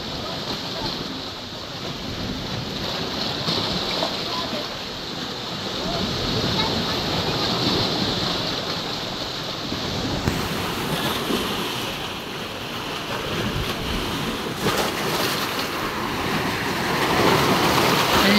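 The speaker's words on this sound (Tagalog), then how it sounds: "Wala, lakas ng alon." Strong ocean waves crash against large rocks along a shore, a continuous loud roar of surf and churning water that swells and recedes over nearly twenty seconds.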